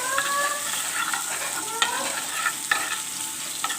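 Garlic frying in oil in a pan for a tomato chili garlic sauce, a steady close sizzle with occasional stirring scrapes and spatters, no talking.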